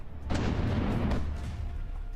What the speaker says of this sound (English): there we got a little explosion, right?